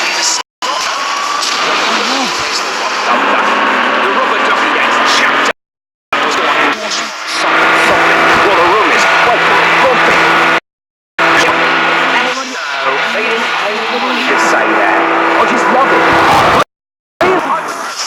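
A military vehicle driven in a Las Vegas gangster action video game, its engine a steady loud drone with rising revs and brief tire skids, cut by short silent gaps.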